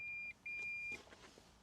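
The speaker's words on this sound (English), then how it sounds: "What was that kind of beep?" A Polestar 3's electronic warning beep sounds twice in quick succession, a thin steady tone, followed by faint rustling and low background noise.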